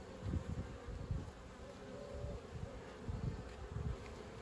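Honey bees buzz around an open hive during an inspection, a soft continuous drone with swelling and fading pulses as bees fly close by, moderately faint with no talk.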